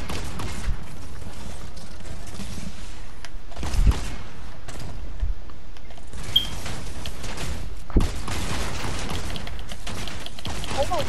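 Laser fire streams steadily onto a player's mech in a video game, a harsh, continuous buzzing barrage with brief gaps and occasional thuds and mechanical clunks.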